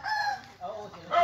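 A chicken gives a brief run of squawky clucks, close by and fairly loud, over a faint rustle of background.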